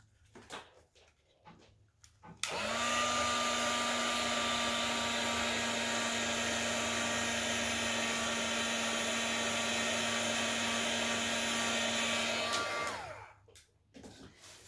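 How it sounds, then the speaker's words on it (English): A heat gun blowing hot air over craft card switches on abruptly and runs as a steady, loud whirring blast with a constant tone for about ten seconds, then winds down and stops. "we're going to hit that with a heat gun"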